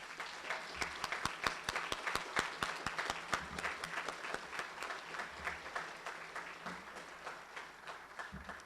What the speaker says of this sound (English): please give the family members and loved ones a round of applause